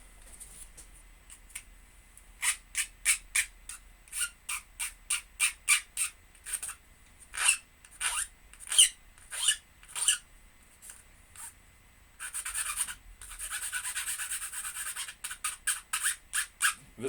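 An old, worn hand file rasps along the edges of a homemade eyelet board in quick, rhythmic strokes, with short pauses between runs and one longer continuous scraping stretch.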